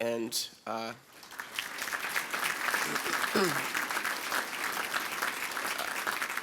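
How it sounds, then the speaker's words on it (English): Economic forecast forum audience applauding event sponsors: a voice speaks briefly at the start, then a sustained, fairly soft round of clapping from the room fills the rest. "I would love to entertain a round of applause for those sponsors and their continued support"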